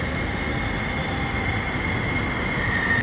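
A metro train pulls into a Symphony station platform, its steady rumble and rolling noise filling the space, with a faint high wheel squeal rising near the end.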